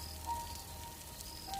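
Heavy rain falls as a steady, dense hiss that fills the whole clip without letup, with no voices over it.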